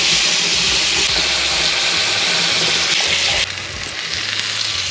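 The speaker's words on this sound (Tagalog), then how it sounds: "it's time to sear our steak" A tomahawk steak sears in butter in a hot pan, giving a loud, steady, close sizzle and crackle that dips slightly partway through as the meat is flipped, with no talking.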